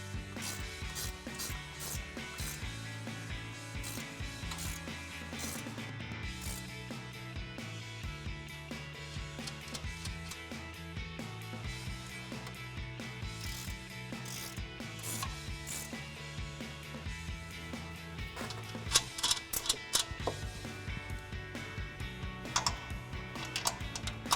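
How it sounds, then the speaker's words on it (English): A 15mm ratcheting S-wrench tightens mounting nuts on a Toyota Tacoma suspension lift install, giving a steady, close run of rapid ratchet clicks over a mechanical hum. "we've grabbed our 15mm ratcheting S-wrench"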